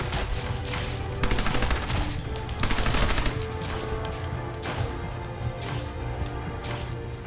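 Sustained automatic gunfire in Fallout 4 with an Aliens mod, rapid repeated bursts rattling over a dense, loud game background, with no talking.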